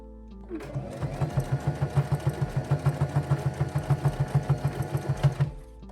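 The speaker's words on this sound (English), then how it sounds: "I'm stitching it on my sewing machine with about 1/2 inch seam allowance." A sewing machine stitches fabric steadily for several seconds, its needle pulsing in a fast, even rhythm up close before it slows and stops.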